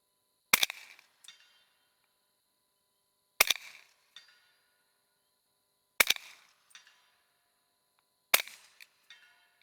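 Four sharp, loud suppressed rifle shots with subsonic rounds, fired at night, spaced about three seconds apart, each with a short echo tail and otherwise near-silent between.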